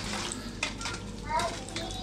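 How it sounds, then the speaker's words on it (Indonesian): Pork skin crackers fry in hot oil, giving a soft, continuous sizzle with light crackling, and faint voices can be heard in the background. "ini yang kalian lihat ini adalah proses menggoreng kerupuk babi bagian ketiganya"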